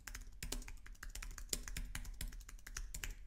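Rapid, continuous keystrokes on a computer keyboard, quiet and close, with irregular clicks and taps running throughout without talk.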